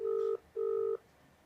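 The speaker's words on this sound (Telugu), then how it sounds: "అనితకి మనం ఫోన్ చేయబోతున్నాం." Two loud, steady telephone ringback tones on an outgoing call, each lasting about a third of a second and separated by a short gap, followed by quiet line hiss.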